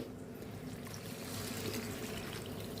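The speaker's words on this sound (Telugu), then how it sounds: "వాటర్ పోసేసుకోండి" Water is poured into a pot of potato curry with masala, a soft, quiet, continuous trickle heard alone for a few seconds.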